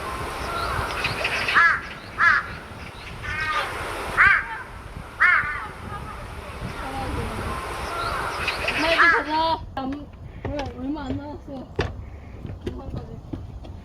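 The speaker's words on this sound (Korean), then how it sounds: "그래 까마귀가 많은데" Crows caw repeatedly near the summit of Suraksan mountain, loud rasping calls coming in scattered bursts, with a quicker run of caws toward the end over steady wind noise.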